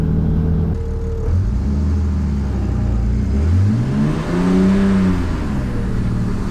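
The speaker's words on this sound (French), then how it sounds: "On se retrouve à bord du BMW C15" A BMW C15 scooter engine revs while riding, loud and close, its pitch climbing and falling in smooth sweeps over a constant rumble.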